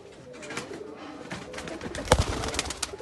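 Banka breeder pigeons coo softly in a loft, a few low throaty calls close by over faint background noise.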